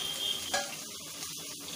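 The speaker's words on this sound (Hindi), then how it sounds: "घी हमारा गर्म हो चुका है, प्याज डालेंगे इसमें।" Onion hits hot ghee with a broad, hissing sizzle that flares in a brief burst as it goes in, then keeps crackling steadily at a moderate level with no talk.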